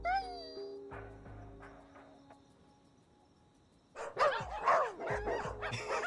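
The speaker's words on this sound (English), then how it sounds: "A second bark is heard" A dog barks and yips twice in close succession after a quiet stretch of faint insect-like chirring, the barks fairly loud and nearby against a low background hum.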